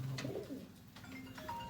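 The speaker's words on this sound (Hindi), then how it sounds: "ये टैडी कबूतर है" A Teddy pigeon in a loft gives a soft, low coo at the start, faint and fairly close, followed by quiet background rustle and a few light chirps.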